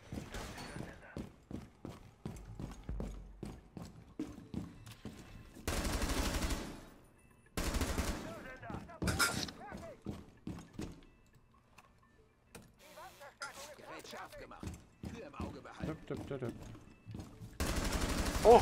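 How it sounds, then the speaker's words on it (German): Rainbow Six Siege video game gunfire: rapid bursts of sharp shots in rhythmic volleys, with louder sustained automatic fire in several stretches, alongside talking players. "Ein Schuss, Whisky, und du bist tot"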